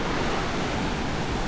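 Sea waves wash onto a sandy beach in Malta, a dense steady roar of surf mixed with wind buffeting, heard alone without voices.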